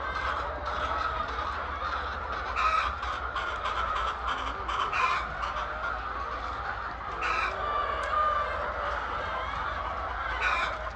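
Chickens on an egg-producing chicken farm cluck and call repeatedly in a steady, busy flock chorus, with occasional louder squawks over a constant background murmur.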